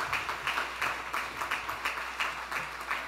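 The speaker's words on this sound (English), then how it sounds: "Please give Janet another round of applause." Audience applause at a Data & Society anniversary event, a steady, fairly faint patter of clapping from a modest crowd throughout.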